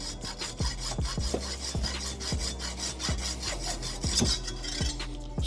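Hacksaw cutting through a Delrin plastic part for a Cadillac CTS-V drift car, steady back-and-forth strokes in an even rhythm of roughly ten passes, close and fairly loud with no talking.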